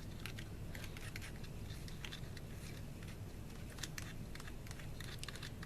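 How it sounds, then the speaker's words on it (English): A palette knife scraping and tapping through clumps of homemade glitter sugar, giving quick, close, irregular crunchy clicks and scratches that repeat steadily over a low background hum. "you're gonna take your palette knife and you're gonna start to break this up"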